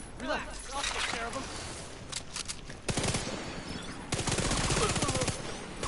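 Bursts of gunfire in The Division 2 while aiming for headshots, rapid automatic volleys in short clusters that grow louder and denser toward the end, over background voices and game chatter.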